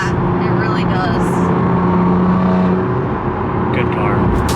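A car engine rumbles and revs loudly and close by, holding a steady drone with short rises in pitch.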